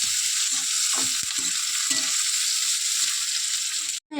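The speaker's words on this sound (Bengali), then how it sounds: "টমেটো দিয়ে দিলাম, একসাথে ভেজে নেবো।" Tomatoes frying together with chicken in a pan for chicken kosha, a dense, steady sizzle broken by a few soft stirring knocks, loud and close, with no talking.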